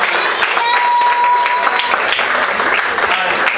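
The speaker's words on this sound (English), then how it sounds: "Let's give all graduates a round of applause." An audience at a summer camp play applauds the graduates in loud, dense clapping that runs the whole time, with a brief tone and a few voices mixed into the crowd noise.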